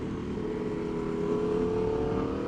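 An Aprilia RSV4 RF superbike engine drones steadily and loudly while the bike is ridden, with a continuous low growl and no talking.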